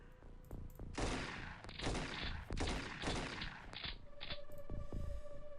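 Automatic weapon fire from a soldier in the X-Com Final Mod Pack strategy game: three loud, close bursts of rapid shots, each followed by a brief ringing tail, then a softer sustained hum and a few faint clicks.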